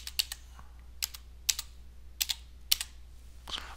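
Typing on a computer keyboard while editing in LibreOffice Math: about six quick clusters of close, crisp keystrokes separated by short pauses in a quiet room, with no talking.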